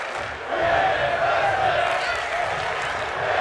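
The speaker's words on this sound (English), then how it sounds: "The crowd now chanting women's wrestling." Virtual arena crowd in a digital wrestling video game, a dense continuous roar of many voices rising into a chant, filling the whole span at steady loudness.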